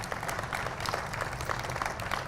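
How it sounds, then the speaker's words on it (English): An audience at a mayor's news conference for a United Way campaign applauds with dense, steady clapping heard from a moderate distance. "So give yourselves a round of applause for that."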